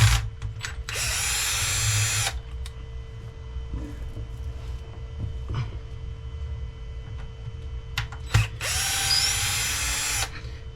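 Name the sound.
power drill removing diff cover screws on Arrma Limitless V2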